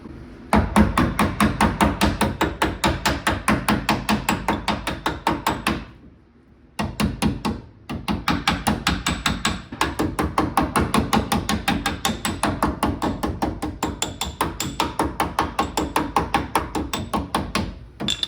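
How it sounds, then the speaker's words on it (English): Rapid, steady hammer blows on wood overhead among rafters, loud and close, striking in a continuous rhythm with one brief pause partway through. "with a hammer."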